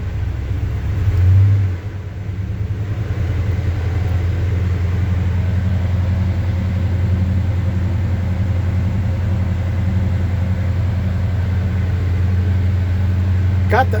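A 1975 Chevy C10 pickup engine cold-starts after a long time sitting, catching near the start and settling into a loud, steady low idle rumble that runs on evenly.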